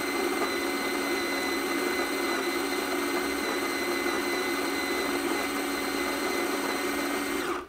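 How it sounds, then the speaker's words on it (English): A Fellow Opus coffee grinder grinding beans, a steady, loud, continuous mechanical whir that holds evenly for several seconds and then cuts off abruptly. "this is what it sounds like to grind with the Fellow Opus"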